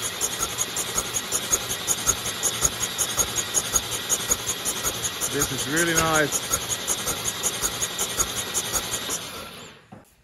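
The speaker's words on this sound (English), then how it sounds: "Engine sounds pretty healthy." A running engine idles steadily and close by, a continuous even drone. Someone speaks briefly over it partway through, and the sound cuts off at the end.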